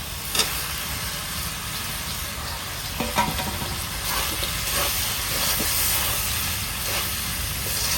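Jackfruit and potato pieces fry in spiced masala in a pan, a steady close sizzle and hiss with occasional stirring clatters, no voices.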